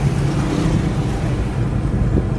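A rebuilt Ford Ranger engine revs hard, a loud, continuous low rumble that swells and holds, heard close with some wind noise over the microphone.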